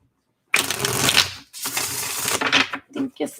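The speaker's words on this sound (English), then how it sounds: "One more shuffle." Tarot cards riffled and shuffled by hand in two bursts of dense papery flutter, followed by a few short taps and slaps as the deck is squared, close and clear.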